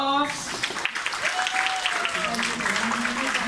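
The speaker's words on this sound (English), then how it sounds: "applause!" Wedding guests at a ceremony applaud the couple, with dense clapping heard alongside a voice and some tonal sounds, at a moderate level.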